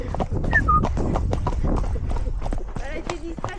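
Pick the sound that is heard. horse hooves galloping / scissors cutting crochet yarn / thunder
horse hooves galloping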